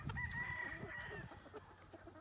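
Free-range chickens on a two-acre homestead, a rooster crowing loudly up close among hens clucking in short, repeated bursts.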